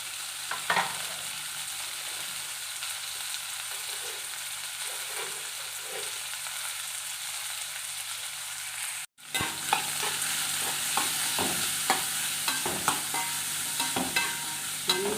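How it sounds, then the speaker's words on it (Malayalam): Shallots, garlic and green chillies sautéing in a pan give a steady close sizzle with repeated stirring scrapes. A brief break comes about two-thirds through, then the frying returns slightly louder, with no voices. "കൊച്ചുള്ളി വെളുത്തുള്ളി പച്ചമുളക് ഇത്രയും നമുക്ക് വഴറ്റിയെടുക്കാം"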